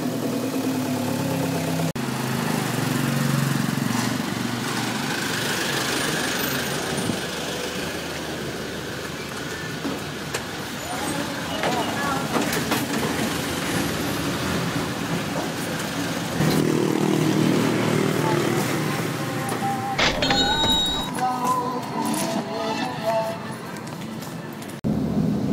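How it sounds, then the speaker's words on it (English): A songthaew shared taxi truck arrives on a Bangkok street, its engine rumbling steadily amid dense traffic noise, with brief revving and someone talking over the din. "First thing is the Song Tao, and it's coming right now."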